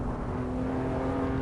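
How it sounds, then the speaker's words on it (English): A race car engine in the Assetto Corsa video game sits at the rev limiter, a loud steady droning buzz with a strong held pitch, continuous and without talk. "Hitting that rev limiter."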